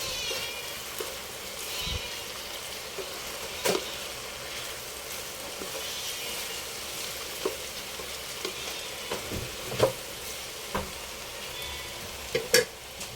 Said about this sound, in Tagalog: Haluin natin.